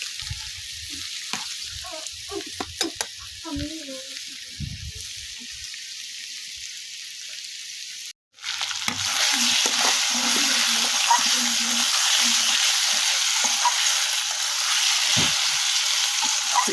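Potatoes fry with sautéed spices in a Bangladeshi village kitchen. Scrapes and clinks of stirring come over a low sizzle, then after a short break a loud, constant frying hiss goes on with occasional soft stirring knocks.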